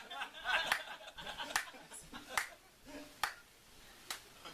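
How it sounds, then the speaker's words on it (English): Slow clapping from a bar audience: sharp, widely spaced single claps about one per second, with scattered chuckles and light laughter around them. "love that slow clap"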